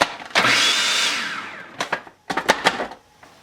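An electric grinder blends hazelnuts into flour: one long whirring burst, then several short on-off pulses with gritty, rattling bursts in between.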